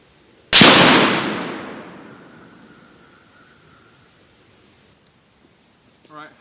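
A single sharp, loud rifle shot from a Savage .243 Winchester fired during a ladder test, its blast decaying over a couple of seconds into quiet, with a faint brief noise near the end.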